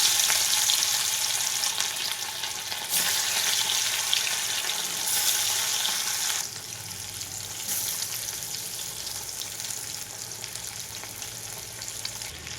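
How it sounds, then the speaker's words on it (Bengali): Hilsa coated in salt and turmeric sizzle and crackle loudly in hot mustard oil, a steady hiss that drops a little partway through; no one speaks. "দিয়ে দেবো নুন হলুদ মাখানো মাছ।"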